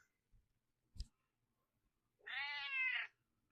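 A single, fairly clear cat meow rises near the end after a few soft taps in an otherwise quiet room.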